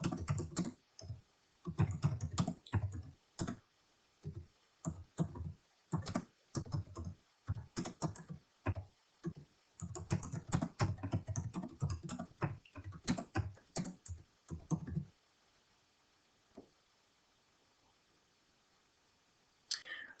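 Fingers type a chart title into Excel on a computer keyboard: close, rapid clicking keystrokes in bursts with short pauses, then the typing stops and near silence follows for the last few seconds.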